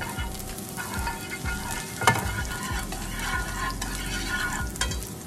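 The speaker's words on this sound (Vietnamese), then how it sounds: "cho tỏi băm vô đây" Minced garlic sizzles steadily in a hot pan, with occasional stirring scrapes over a constant crackling hiss.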